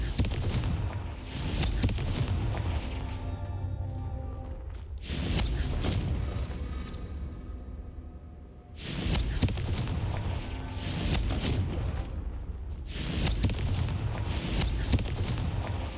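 Confringo fire spells burst in Hogwarts Legacy, a series of loud, booming blasts roughly every few seconds, each with a sharp crack and a rumbling tail, separated by quieter ringing gaps.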